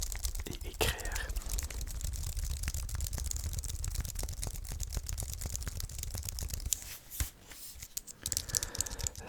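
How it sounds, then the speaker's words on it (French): Fingers type steadily on a computer keyboard at close range, with dense soft clicks and clacks in an irregular stream and a brief lull near the end, under faint whispering. "c'est un clavier parfait pour taper"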